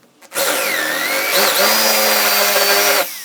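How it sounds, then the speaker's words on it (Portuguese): A power drill fitted with a spade bit bores a shallow recess into wood for a homemade wooden bench vise, whirring loudly and steadily for about three seconds with a pitch dip as the bit bites, then stopping. "colocar a broca chata rapidinho, fazer essa cava aqui, para já partir só do furo aqui"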